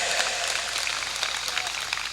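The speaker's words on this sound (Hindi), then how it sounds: "हमारी बात सत्य है तो ताली बजाएं" Audience applause at a live Hindi comedy or speaking event, a dense steady clapping that fills the whole moment at moderate level with no talk over it.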